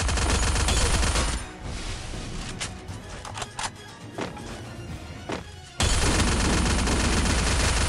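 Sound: shotgun fire in a video game

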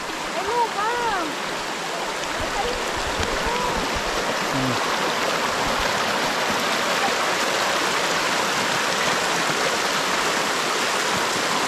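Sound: river stream flowing

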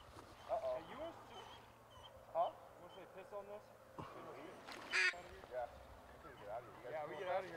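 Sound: ducks quacking during Kansas duck hunt

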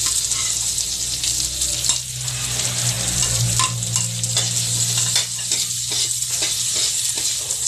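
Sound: onion and ginger sizzling in pan for paksiw

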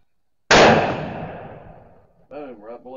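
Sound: rifle shot fired at 300 yard target

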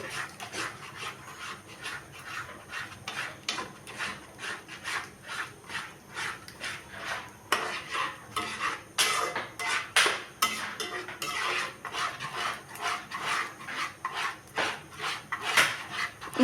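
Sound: mixing spices into palak paneer gravy in pan

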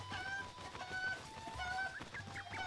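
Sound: chicken clucking in video game Zelda: Breath of the Wild

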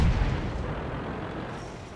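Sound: tank gun shot in video game

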